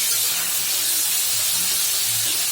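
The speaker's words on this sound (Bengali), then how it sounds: "পটল আলুগুলো ভেজে নিচ্ছি লাল লাল করে" Pointed gourd and potato pieces fry in hot oil, giving a dense, even, close hiss that holds steady throughout without any voices.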